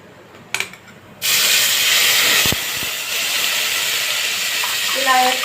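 Tomato and green chilli paste hits hot oil with whole spices like star anise in a pan for chicken biryani, bursting into a loud steady sizzle and hiss after a few clicks, continuing with faint background voices.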